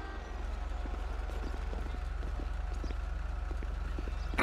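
Horse hooves clip-clopping in a GTA game, a steady rhythmic run of close, even hoofbeats over a constant low engine-like hum, with no talking.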